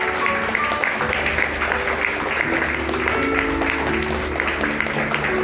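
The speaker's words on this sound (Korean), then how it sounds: "신랑 신부 부모님께 인사 큰 박수 부탁드리겠습니다" Guests at a Korean wedding ceremony in Changwon applaud steadily, a dense hall-wide clapping that runs throughout under music and a voice over the sound system.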